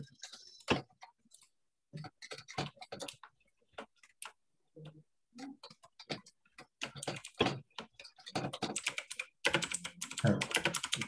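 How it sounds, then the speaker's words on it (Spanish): Computer keyboard typing comes through an open microphone during an online programming class, in irregular bursts of sharp clicks separated by silent gaps, building to dense rapid keystrokes near the end. "Se escucha teclado."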